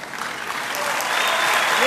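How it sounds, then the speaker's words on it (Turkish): On a televised talent show stage, the audience claps for the jury in a short, dense burst that grows slightly louder, with cheers and voices mixed into the applause. "Jüriye bir alkış benim için."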